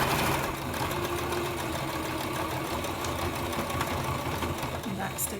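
A sewing machine runs steadily, back stitching over a seam on shorts fabric with a constant close mechanical hum and vibration for several seconds.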